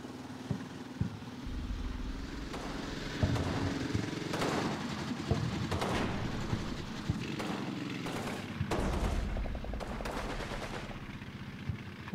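Friendly units firing in the Combat Mission wargame during the Vierville battle, a steady mix of machine-gun bursts and scattered single shots over a low rumbling background, continuing without letup.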